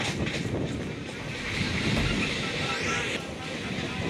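Interior rumble of a local commuter train running from Majerhat to Budge Budge, a steady low roar with faint rattling and wind noise, moderately quiet and continuous throughout.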